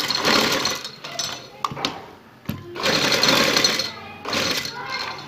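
Sewing machine stitching over a paper strip while doing cut-work designs on shalwar cuffs, running in three loud bursts with short pauses between them, and a voice is heard briefly in the gaps.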